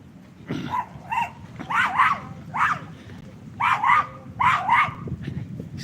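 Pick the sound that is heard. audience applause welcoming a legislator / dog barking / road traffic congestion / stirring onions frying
dog barking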